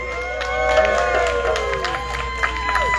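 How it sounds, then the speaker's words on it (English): An outdoor park concert crowd cheers and whoops as a performer is welcomed to the stage, with scattered clapping and shouts rising and falling amid lingering tones. "I want you to give a big round of applause to"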